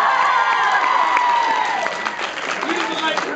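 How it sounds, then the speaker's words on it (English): Audience at an improv comedy show clapping and cheering, loud crowd noise with shouts and whoops over the clapping, voices mixed in. "Now everyone clap just because it's annoying Brian"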